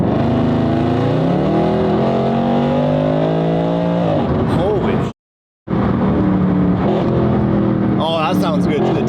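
Supercharged Mercedes AMG SLS engine revving up in a rising howl, then blipping through downshifts with sharp throttle pops and a brief dropout, loud and close with a voice faintly underneath.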